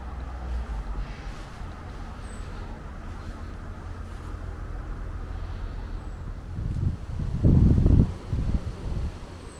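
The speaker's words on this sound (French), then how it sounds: "Vous voyez, le vent, ça souffle encore." Wind blows outdoors on a sunny day, a steady broadband rush buffeting the microphone, swelling into a stronger gust near the end.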